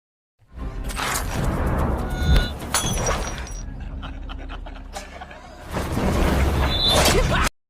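Glass shards shattering and scattering in loud, close bursts of crashing and tinkling, with a calmer stretch of rattling debris between two heavy breaks and no talking.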